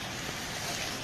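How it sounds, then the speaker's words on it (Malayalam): Heavy rain pours steadily at a check dam, a dense, even hiss of falling water that stays constant and fairly faint throughout, with no voices. "നല്ല മഴ ഉണ്ട്"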